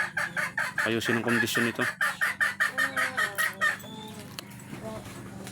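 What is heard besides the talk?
hens clucking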